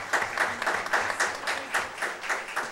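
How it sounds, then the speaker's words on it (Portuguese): Audience applause at a solemn session closing Workers' Week, a steady wash of many hands clapping close by with no talk over it. "Uma salva de palmas, por favor."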